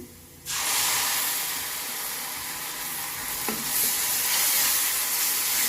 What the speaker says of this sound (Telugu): ఇప్పుడు దీంట్లో ఈ టమాటా ప్యూరీ చేసుకున్నాం కదా ఇది వేసేస్తున్నాను